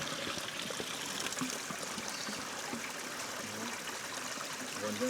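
Cold mountain stream in the Swiss Alps used to refill water bottles on a hiking trail, a steady, fairly quiet trickling and gurgling flow that goes on throughout, with faint bubbling near the end.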